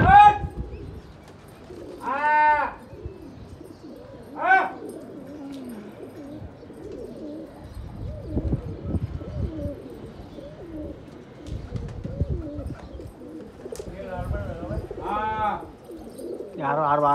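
Desi Gola pigeons in flight at a rooftop flying contest, several loud coos and calls coming in bursts with rustling and background noise, while people talk and shout.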